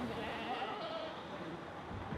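Sheep bleating on the Tibetan plateau, a faint distant bleat or two under a soft, steady outdoor background with narration running throughout.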